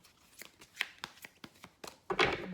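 Tarot cards being shuffled by hand, a series of crisp riffling flicks at an uneven rhythm ending in a longer, louder flutter, close and clear with no talk.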